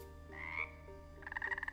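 A frog croaks up close on an Amazon outing, giving a few drawn-out calls and then a rapid pulsing trill, clear and fairly quiet.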